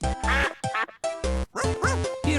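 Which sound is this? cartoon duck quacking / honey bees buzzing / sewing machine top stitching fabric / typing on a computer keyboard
cartoon duck quacking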